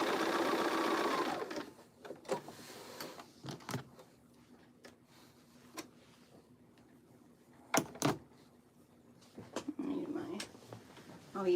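A sewing machine stitches three rows in a home sewing session, with short bursts of mechanical whirring and clicking between pauses and handling noise, fairly faint.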